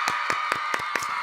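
Five or six sharp hand claps in a slow, even rhythm, fairly close, over a faint steady hum, in a radio studio.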